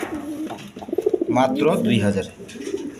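Pigeons at a breeding farm coo steadily in the background while someone talks over them.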